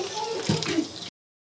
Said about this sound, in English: now we're going to add in about 2 cups of water.